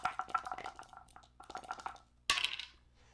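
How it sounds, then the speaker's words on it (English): Plastic defense dice for the HeroQuest board game rattle and clatter in a series of quick clicks, pausing briefly, then ending with a sharp louder tumble near the close. "Roll 2 defense dice."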